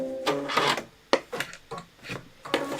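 Scissors trim Shape Flex interfacing off the back of a blue fabric square for a pillow: a few short, close rasping snips come in separate bursts with quiet gaps between them.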